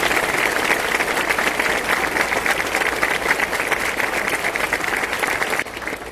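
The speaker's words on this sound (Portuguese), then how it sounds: "com um forte aplauso, recebemos a nossa irmã Maria Luísa" A church congregation in Norcross, Georgia applauds at a church inauguration, with dense, even clapping filling the space that drops off just before the end.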